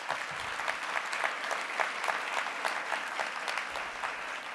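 An awards ceremony audience at the Sheraton Times Square Hotel in New York claps warmly, a steady even wash of many hands with no speech over it.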